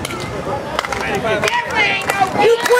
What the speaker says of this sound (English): You quit that clapping right now.